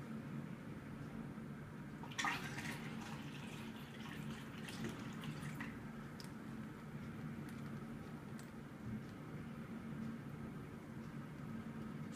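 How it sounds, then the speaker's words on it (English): Water poured into a homemade coffee machine fitted with a water flow sensor makes a faint, quiet splashing and trickling that starts abruptly and then fades into a low steady background hum. "So now I pour down the water."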